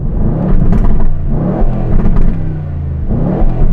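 An Aston Martin V12 sports car engine revs hard, rising and falling in repeated bursts of throaty roar, close by with no talking.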